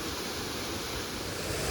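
The waterfall at Hilton Falls, near old mill remnants, gives a continuous, dense rushing roar that stays steady and full throughout, with no other sounds standing out.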